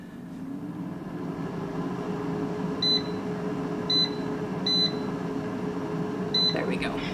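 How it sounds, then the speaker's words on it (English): Several short, bright electronic beeps sound from an air fryer as it is started for a batch of candied nuts. An appliance hum runs steadily underneath the beeps. "we're gonna put this right into our air fryer. And we're gonna get it going."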